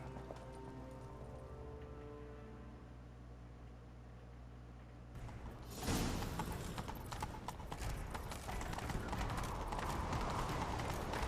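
Rhythmic hoofbeats of a galloping horse in the video game The Witcher 3: Wild Hunt start suddenly and continue loud and steady, after a quieter stretch of low musical drone.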